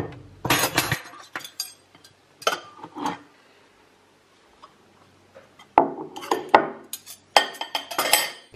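Dishes and cutlery handled in a home kitchen after reheating a meal, with sharp clinks and clatters in separate bursts and quiet gaps between, close by and without talk.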